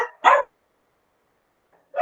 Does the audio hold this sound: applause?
no